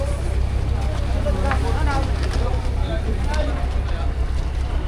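A boat chugs steadily on the water off Boracay with constant engine and wind noise, close to the microphone, while people talk faintly underneath.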